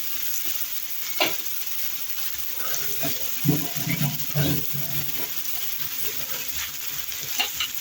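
Red-fleshed dölemen mushrooms fry in a pan with a steady, close sizzle and hiss, broken now and then by a few soft stirring knocks and scrapes.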